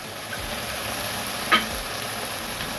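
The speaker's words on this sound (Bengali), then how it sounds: "দু চামচ রসুন বাটা দিয়ে এটাকে ভালো করে মেরে নিতে হবে যতক্ষণ না তেল বেরোচ্ছে ততক্ষণ মেরে যেতে হবে" Onion, ginger and garlic paste fries in oil in a pan, giving a steady, even sizzling hiss with one brief louder spatter midway.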